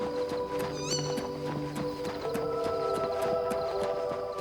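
A horse whinnies and hooves clip-clop steadily at a stable in the video game Oblivion Remastered, the neigh rising briefly near the start over a layer of game music and ambience.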